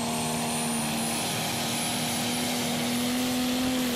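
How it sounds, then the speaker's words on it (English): A pulling tractor called Mad Croc Caesar, from the Herlevy pulling team, roars at the Brande tractor pull, a loud, sustained engine drone with a steady tonal whine holding level throughout. "the last tractor from the Herlevy pulling team, and this is Mad Croc Caesar, driven by Matty Herlevy"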